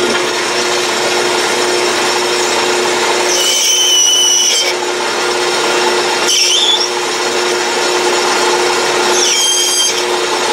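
An Atlas metal lathe turns a ball from plastic stock, a steady motor hum with three separate bursts of higher-pitched whining cuts as the tool bites, each lasting about a second.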